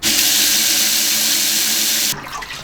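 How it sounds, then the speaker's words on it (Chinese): Pork belly rinsed under a running kitchen tap, a steady loud splash of water into a sink that cuts off abruptly near the end, close up with no talk. "把肉洗一下。"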